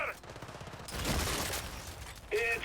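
Rapid marksman gunfire in a multiplayer video game: a quick burst of several shots over a dense, noisy mix of game sounds, fairly quiet, ending with a brief tonal effect.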